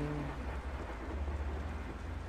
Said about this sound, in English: enjoying the rain